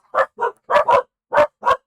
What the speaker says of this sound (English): I am very sorry for the dogs barking.